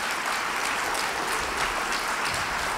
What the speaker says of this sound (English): Give them both a round of applause for coming up.